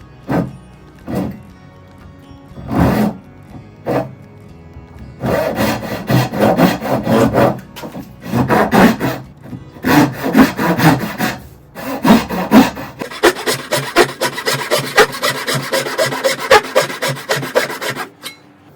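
A hand saw cuts vertical slots in wood for a Windsor stool, giving rasping back-and-forth strokes, first in short separate bursts, then in steady rhythmic runs, close and fairly loud, with no talking.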